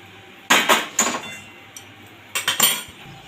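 Vegetable curry with eggplant and taro being poured out of a cooking pot, heard as bursts of metal scraping and clinking of a spoon against the pot, in two clusters separated by a short pause.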